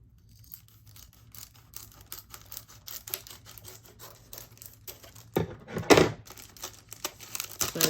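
A die-cut paper card being separated from a sheet, heard as a run of close, quick crisp snips and paper crinkles that build into louder rustling near the end.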